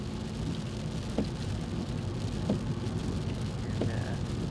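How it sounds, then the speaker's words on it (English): Steady rain with a low, continuous rumble of a thunderstorm heard from inside a moving car, with a few faint ticks and drips over the constant wash of noise. "All sorts of crazy storms, like I've never seen before"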